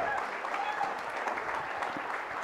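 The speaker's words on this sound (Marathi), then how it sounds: "जोरदार टाळ्या झाल्या पाहिजे यांच्यासाठी." Dense, loud applause from an audience at a prize announcement for a coding competition, continuous clapping throughout the short stretch.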